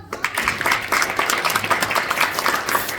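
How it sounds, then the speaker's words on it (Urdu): Audience clapping at a charity event, a dense steady patter of many hands that keeps going at a loud, even level, with no speech over it. "اب آپ تالی بجائیں"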